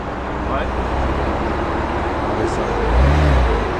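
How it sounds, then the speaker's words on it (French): A Renault Clio V6 rumbles past close by, its engine swelling louder toward the end amid steady road noise, with people talking nearby. "Petite Clio V6 comme ça."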